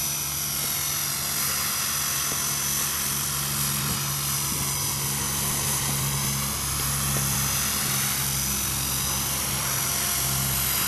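An Art Tech Falcon 3D RC helicopter flies forward in a light breeze, its steady high-pitched rotor whine and motor hum running loud and continuous with no talk.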